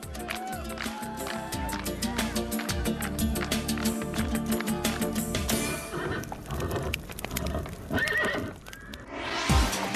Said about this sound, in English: The obedient and fast horse is the best friend of the horseman.